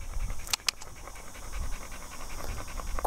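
A dog pants in a run of quick, rhythmic breaths close by, broken by a couple of sharp knocks near the start.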